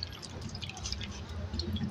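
Shaped balls of binangkal bread dough are dropped into water, giving soft drips and liquid splashes close by amid faint background noise.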